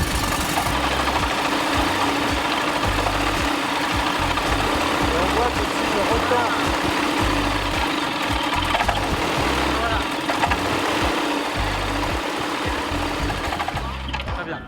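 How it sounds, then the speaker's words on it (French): A motorcycle engine starts and then idles at low revs during carburettor synchronisation, giving a steady, rough mechanical drone with a regular low pulsing throb that runs continuously near the microphone. "Laura, tu peux démarrer le moteur avec les freins, les cales et un régime plutôt bas pour l'instant"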